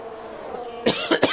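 A person coughs two or three times in quick bursts near the microphone, over a low steady background hum.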